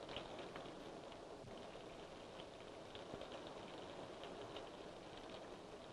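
Steady rain falls continuously, a dense even hiss of drops on surfaces that stays close and moderately loud throughout, with no voices.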